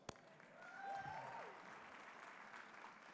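Audience applause at a housing and economic development conference awards ceremony, a faint, distant spatter of clapping that swells briefly and then thins out, with no talk over it.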